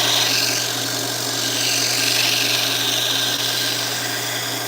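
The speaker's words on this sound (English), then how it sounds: "I'm gonna hit it just a little bit more, try and take out some of these big sandpaper marks" Sandpaper rubs against a spinning maple segmented bowl on a wood lathe, giving a steady, close, continuous hiss with the lathe motor's hum underneath and no break for nearly five seconds.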